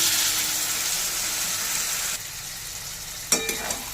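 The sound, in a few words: water poured into frying soyabean curry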